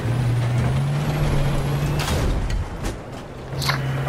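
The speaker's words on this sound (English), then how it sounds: "I spotted an enemy vehicle." An enemy vehicle in the video game Battlefield 4 rumbles nearby with a steady low engine drone, punctuated by a sharp hiss like an air brake and a few mechanical clanks and squeaks, loud and close.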